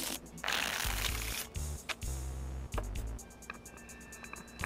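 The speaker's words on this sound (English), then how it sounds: "Shuffle those cards again!" Playing cards being shuffled in Strong Bad's Cool Game, a short run of riffling and tapping card sounds amid soft game tones and beeps, close and clear with no talk.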